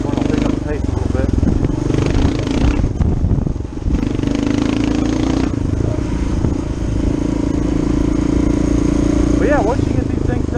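A Kawasaki KLR 650 motorcycle picks up speed on a forest trail, its engine droning loud and steady with rising revs, close up amid rattling and wind, while a rider talks over it.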